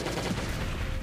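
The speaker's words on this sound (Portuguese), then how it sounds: "Então a gente vai dar esses tiros assim, ó." Gunfire from AK and M16 rifles in a zombie-horde survival game, a dense continuous burst of shots close up with no clear gaps between rounds.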